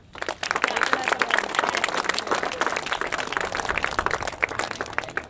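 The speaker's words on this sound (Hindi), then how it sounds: "थोड़ा तो ताली बजाओ भाई।" A school audience claps at an Independence Day celebration, a dense, steady patter of many hands filling the room for several seconds after a brief quiet start.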